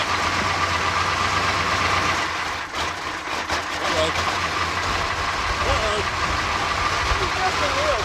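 A cold-running 6.2 diesel engine in a 1985 Suburban idles with a steady, rough low rumble and a faint knock throughout, with voices murmuring nearby.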